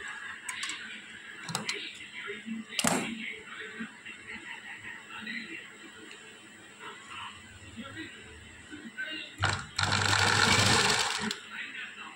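Sewing machine stitching a lining piece onto the main piece for hand piping, a soft running whir with ticking needle clicks and a louder burst near the end, while someone speaks throughout.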